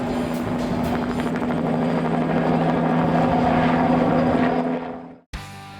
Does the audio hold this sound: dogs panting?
no